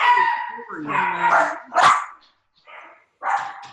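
Several close dog barks and yips, with a drawn-out whining howl at the start and short pauses between calls.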